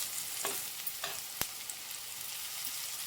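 Bitter gourd pieces frying in a pan and being turned one by one, a steady close sizzle with a few light clinks and scrapes, one sharper tap in the middle.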